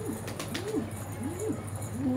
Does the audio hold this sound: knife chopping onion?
no